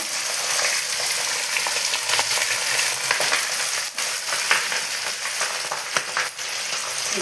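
Cooled cooked rice hits a hot pan and is stir-fried for egg paneer fried rice, a dense continuous close sizzle with frequent scraping and tossing sounds, no talking.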